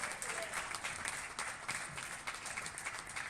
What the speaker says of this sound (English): Big hand of applause for Greg Lobban.